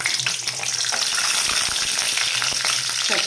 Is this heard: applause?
no